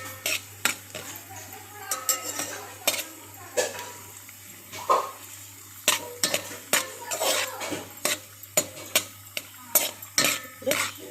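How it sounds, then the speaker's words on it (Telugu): Millet semiya being fried and stirred in a pan until golden for payasam, with repeated scraping and clinking of a spoon against the pan over a faint sizzle, steady and close throughout. "కొంచెం గోల్డెన్ రంగులోకి వచ్చిందాక వేయించుకోండి"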